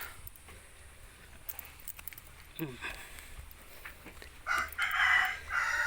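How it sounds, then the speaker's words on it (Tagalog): Chickens cluck and a rooster crows in short bursts, fairly close, over a low background hum and some movement. "Tapos ang sasalubong sa iyo, wow, puro manok."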